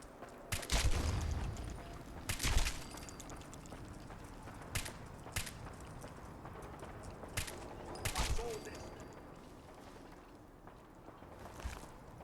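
Gunners fighting at a distance in Fallout 4: scattered gunshots and short volleys come irregularly, some sharp and some muffled, over quiet outdoor ambience.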